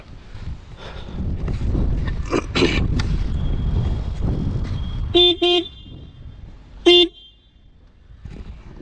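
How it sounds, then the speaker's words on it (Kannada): An aftermarket horn fitted on a Hero Xpulse 200 4V motorcycle sounds two loud, sharp honks outdoors, the first a short double blast and the second a single toot, over wind and background noise. "ನೆಕ್ಸ್ಟ್ ಮಾಡಿಫಿಕೇಷನ್ ಬಂದು ನಾವು ಇದಕ್ಕೆ ಹಾರ್ನ್ ಹಾಕ್ಸಿದ್ದೀವಿ, ಇಲ್ಲಿ ನೋಡ್ಬೋದು."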